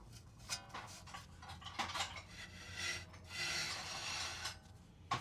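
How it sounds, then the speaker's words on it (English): Quiet rasping scrape of a worn rear brake rotor grinding on a Ford Taurus Limited with shot pads, heard as repeated rubbing strokes that swell into a longer grind near the end, close and without voices. "this is what the rotor sounds like"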